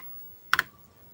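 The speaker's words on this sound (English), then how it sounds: "I'm just gonna type in home." Two quick clicks of keys on an Apple IIe computer keyboard, close and fairly crisp, set against a quiet room with a faint steady hum.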